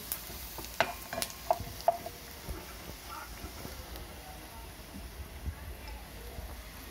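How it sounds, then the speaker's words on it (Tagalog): Garlic toasting in a pan for pork binagoongan: a soft, steady sizzle with scattered stirring clicks and scrapes, louder early on, close and fairly quiet. "Kailangan medyo tostado yung bawang."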